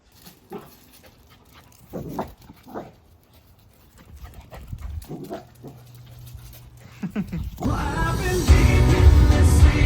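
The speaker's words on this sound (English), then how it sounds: "Just two happy puppies." Dogs pant and whimper nearby in short bursts, growing louder and busier toward the end with a rough, noisy rush.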